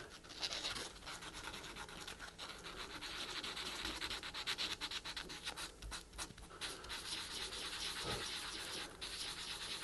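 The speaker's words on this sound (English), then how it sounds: "Tiny bit of sandpaper. Bit of 400 sandpaper." Guitar frets are rubbed with a small piece of 400 grit sandpaper, giving a steady, quiet, close scratchy rasp made of quick back-and-forth strokes that keep going with no voices.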